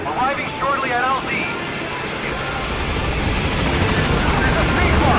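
Support helicopter in Metal Gear Solid V: The Phantom Pain closes in on the landing zone with a steady, loud rotor and engine roar that builds slightly. Radio-style voices talk over it.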